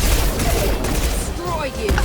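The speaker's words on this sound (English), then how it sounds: "Firing a high impact shot." Dense, booming gunfire and blasts fill a battle in Mass Effect 2 as a high-impact shot is fired, the heavy continuous din mixed with voices calling out over the noise.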